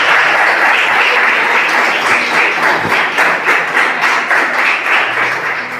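A church congregation breaks into loud, sustained applause, dense massed clapping that fills the room evenly from start to finish and tapers only slightly at the very end.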